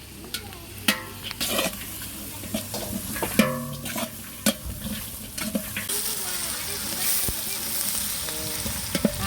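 Onions fry in oil for a dum biryani, giving a continuous sizzle under repeated sharp clanks and scrapes of a stirring spoon against the pot, with a brief watery splash.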